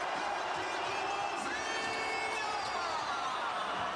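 A basketball arena crowd at a Brazil v Paraguay FIBA AmeriCup qualifier keeps up a steady, distant roar of cheering and whoops, with commentary talking over it throughout.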